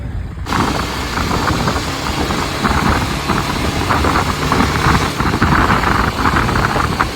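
A road vehicle with a heavy handlebar has its engine running steadily as it pulls away, a continuous loud rumble with broadband road and wind noise and no voices.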